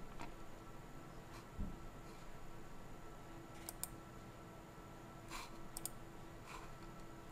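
A computer mouse clicks in a quiet room, with a handful of faint, sparse taps spread over several seconds against a low, steady hum, and nobody speaking.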